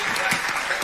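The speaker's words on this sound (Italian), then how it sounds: "Facciamo un applauso ai nostri sponsor" A short burst of clapping from an audience at a local radio and TV music show, dense and close, lasting under a second.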